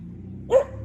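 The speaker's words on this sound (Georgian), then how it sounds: "აი ეს ძაღლია. აი ეს არის." A dog gives a single short, loud bark close by over a low steady background hum.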